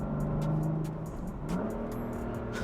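A tuned 2015 BMW M3 engine blips in a rev-matched downshift to second gear, a brief close exhaust rise over a steady engine drone.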